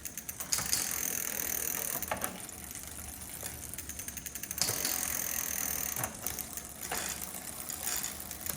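The derailleur on an inexpensive road bike clicks through its gears during a tune-up, giving a handful of sharp ratcheting shifts over the whirr of a spinning drivetrain, up close and with no talk.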